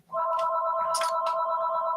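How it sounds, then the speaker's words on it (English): Telephone ringing in a guitar shop during a live talk show, a loud steady electronic ring tone that starts abruptly and holds, with brief bursts of noise over it. "And the phone's ringing."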